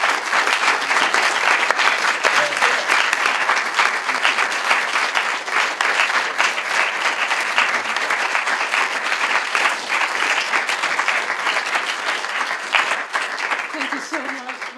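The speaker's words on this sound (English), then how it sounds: "please a big round of applause to our dear guest" Sustained applause from a conference audience fills the room for about fifteen seconds, steady and dense throughout, with no talk over it.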